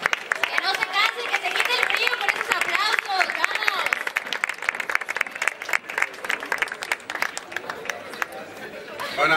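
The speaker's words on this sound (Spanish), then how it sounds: "Un fuerte aplauso a los compañeros" Audience applause at an evening awards gala, the Galardón Vizcaya 2015, dense clapping mixed with crowd chatter and voices, steady and fairly loud throughout, thinning slightly toward the end.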